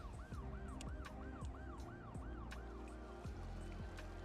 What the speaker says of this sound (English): And I love that the ambulance is just there.